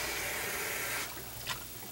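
Tap water runs steadily over a pan being rinsed of hamburger grease, a broad hiss that drops away partway through, followed by a brief splash near the end.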